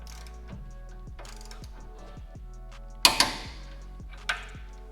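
A ratchet tightens a 24mm castle nut on the CV axle of a 3rd-generation Toyota 4Runner, giving a regular series of close, crisp clicks followed by a couple of sharper metallic clanks near the end.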